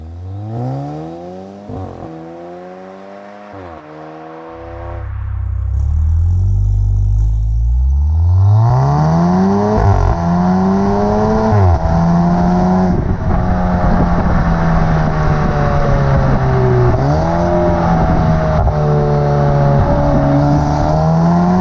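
Modified Audi A5 45 TFSI Quattro with downpipe, OPF deleted and a full open exhaust system, revving repeatedly: several loud rising and falling engine sweeps, near and dominant, with no talk.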